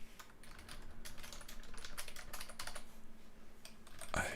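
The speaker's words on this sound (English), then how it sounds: "I am bad at typing." Rapid, uneven tapping of keys on a computer keyboard, close and continuous, with a louder burst of clacks at the very end.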